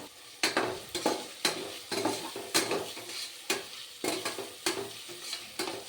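Tomatoes sautéing in a pan for biryani, with a soft sizzle under repeated rhythmic scrapes and clacks of a spoon stirring against the pan, about one stroke every half second, close and with no talking.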